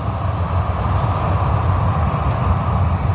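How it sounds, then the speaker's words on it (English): A train passes in Calgary, heard as a steady, broad low rumble and roar that holds at an even level throughout, with no talking. "You guys see there's a train right there?"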